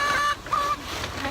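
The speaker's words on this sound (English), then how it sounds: "So Dutch is my favorite chicken." A backyard laying hen lets out a few loud, drawn-out squawking calls close by, the first longer and the second shorter, with a brief pause between them and no talking.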